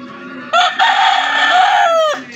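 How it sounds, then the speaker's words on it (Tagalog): A Boston Roundhead rooster lets out a single loud, close crow, one sustained cock-a-doodle-doo of about one and a half seconds that ends in a short rising squawk. "Jason na Saraga po tong manok na to"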